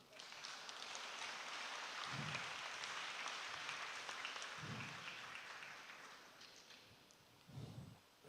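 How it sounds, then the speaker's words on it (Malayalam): Faint, thin applause scatters through a church gathering, a soft patter of a few hands that stays distant and low with small bumps, and no one speaks. "അതൊരു ചതഞ്ഞ കയ്യടിയായിരുന്നു"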